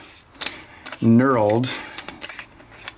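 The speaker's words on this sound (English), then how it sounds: "take off the bottom of the canister, all you do is undo it, like so" The knurled aluminum bottom of an oil catch can canister being unscrewed on a 2016 Dodge Challenger Hellcat, a few scrapes and clicks and then a rising metallic creak or squeal at close range.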